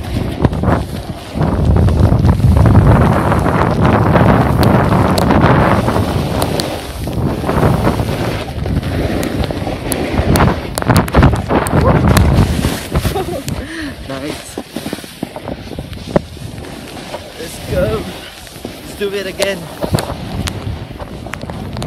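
A snowboard rides down a mountain slope at Dynaland in Japan, with loud, steady wind buffeting the microphone and the scraping rush of the board over snow throughout.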